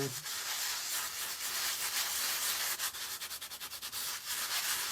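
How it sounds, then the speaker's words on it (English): Paint rubbed into the fabric of a primitive pilgrim craft doll makes a steady, close, dry brushing and scrubbing hiss, ending in a run of quick rhythmic rubbing strokes, with no voices. "So I kind of try to rub it into the fabric."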